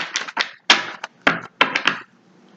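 Tarot cards being shuffled by hand, producing a series of about seven short, crisp riffling bursts in an uneven rhythm, close and fairly quiet, with near silence at the end.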